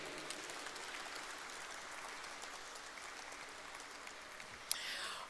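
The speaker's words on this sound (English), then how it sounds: "Once again, put your hands together." Sustained applause from an audience at a rugby sponsors' felicitation ceremony at St. Peter's College, a steady dense clatter of clapping throughout with a brief sharp knock near the end.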